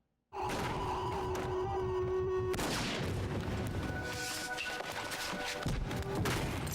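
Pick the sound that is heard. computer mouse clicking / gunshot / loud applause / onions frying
gunshot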